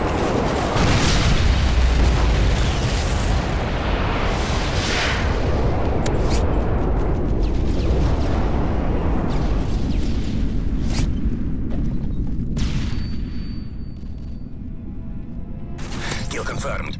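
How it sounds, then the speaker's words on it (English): Call of Duty Modern Warfare 3 multiplayer airstrike explodes in a long run of heavy rumbling booms and blasts, loud and continuous, fading slightly near the end amid game noise. "Friendly airstrike on the way."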